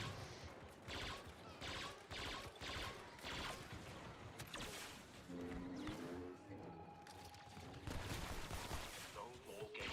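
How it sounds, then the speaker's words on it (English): Blaster bolts firing in Star Wars Jedi: Fallen Order, rapid repeated sharp shots in dense volleys mixed with game sounds, with a voice talking over parts of it. "Just look at all those lasers going off."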